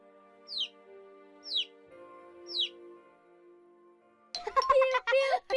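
A cartoon chick peeping in a children's music lesson: three short, evenly spaced high peeps over a soft musical background, followed by a burst of livelier sound at the end.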